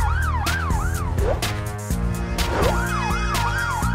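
Police SUV siren wailing in a steady rising-and-falling sweep, loud and close, set over a bouncy children's song with music throughout.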